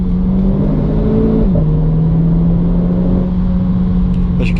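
RenaultSport Clio 220 Trophy engine heard from inside the car on a public road while shifting down gears, a steady close mid-pitched drone with a brief dip in revs, no talk.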